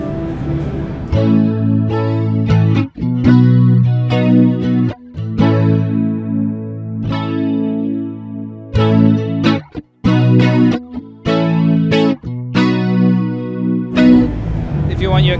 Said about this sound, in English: if you want your kind of big 80s chorus sounds